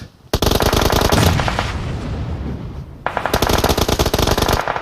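Sustained automatic gunfire in the mobile battle royale game PUBG Mobile during a competitive match, loud dense bursts of rapid shots running almost continuously with a brief letup before firing resumes.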